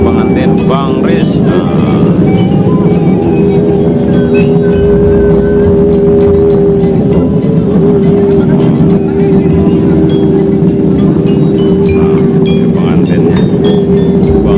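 A wedding car pulls up at an Indonesian wedding under a loud, steady engine hum and rumble, while people talk over it the whole time and faint clatters come and go.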